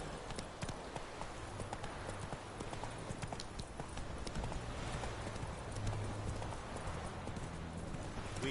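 Horse hooves clip-clop steadily as Roach is ridden in The Witcher 3, a continuous even rhythm of close, moderately loud footfalls over a constant game ambience, with no talk.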